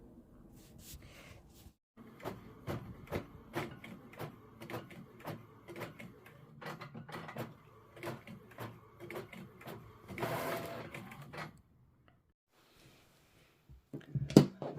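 A printer prints cardstock for about twelve seconds with a steady series of rapid mechanical clicks and whirring passes, then goes quiet before a final clunk.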